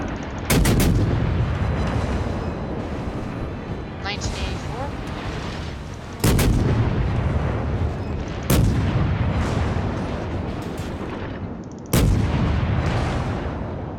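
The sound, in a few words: warship guns firing AP rounds in World of Warships video game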